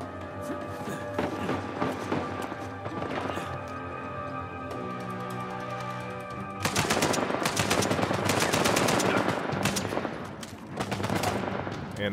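AK rifle gunfire in the Uncharted: A Thief's End video game, dense rapid bursts and sustained automatic fire with a heavier barrage in the second half, loud and close with faint voice underneath.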